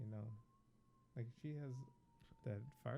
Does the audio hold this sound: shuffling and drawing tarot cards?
no